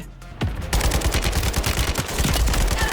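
Warzone gunfire rattles in a fast, steady automatic stream, loud and close, starting after a brief quieter moment and continuing without a break.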